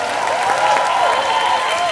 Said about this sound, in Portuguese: Quero que vocês levantem um aplauso muito grande para essa banda.